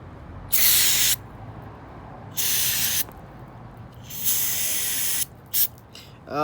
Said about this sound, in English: So I'm just gonna go ahead and spray with carb cleaner right now.